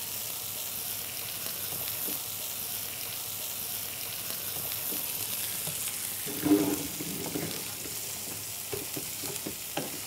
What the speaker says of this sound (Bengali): এই মশলায় এর সাথে আমি কষাবো।